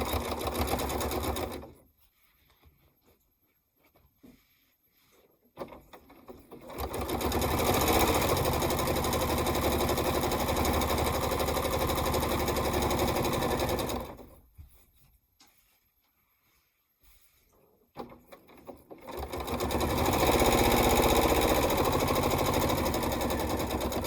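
A sewing machine stitches down quilt-as-you-go fabric in two long, steady, loud whirring runs, each about seven seconds, separated by quiet pauses with soft handling of the fabric.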